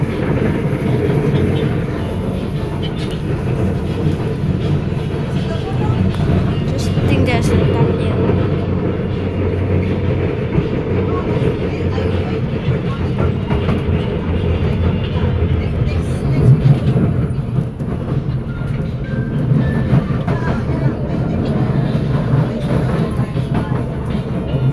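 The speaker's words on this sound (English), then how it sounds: "Watch the train depart" A Singapore SMRT C751B metro train running between Chinese Garden and Clementi, a loud, continuous rumble of wheels and motors heard from onboard, with some speech faintly over it.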